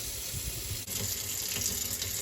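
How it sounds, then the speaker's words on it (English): Water runs steadily from an apartment kitchen tap fitted with a single-handle mixing valve, a continuous close hiss and splash into the sink with no voices. "Let the water run for a couple of seconds and you will have some hot water."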